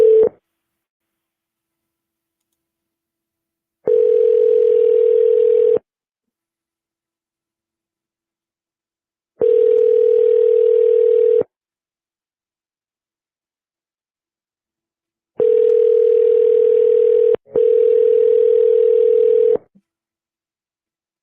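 Telephone line tone on a live real estate call, a steady mid-pitched hum that pulses in long evenly spaced bursts with silent gaps, five bursts in all, two of them nearly back to back, with no talking over it.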